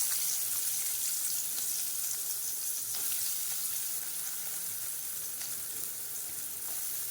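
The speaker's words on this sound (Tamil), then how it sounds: "இப்போ இதில் வெங்காயம் போட்டுக்கிறேன்" Onions frying in hot oil in a pan, a soft, steady hissing sizzle that stays even and fairly quiet throughout, with no voices.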